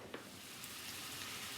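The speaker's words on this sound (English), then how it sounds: "my chicken is sizzling really nicely now" Steady, close sizzling of chicken frying in a pan, a continuous crackling hiss with small pops and no talking.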